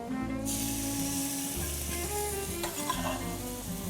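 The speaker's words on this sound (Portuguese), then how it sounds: "Vamos fazer o que a gente chama de suar a cebola, que é simplesmente refogar" Chopped onion sizzling in olive oil in a pan on the stove for lasagna, a steady, even frying hiss with occasional stirring scrapes, close and alone.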